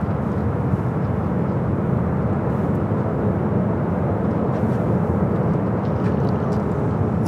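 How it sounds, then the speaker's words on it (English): A Southwest Boeing 737-700 airliner at LAX, bound for Albuquerque, gives off a steady, loud broadband jet roar that holds evenly throughout with no voices. "Southwest Flight 983 heading to Albuquerque"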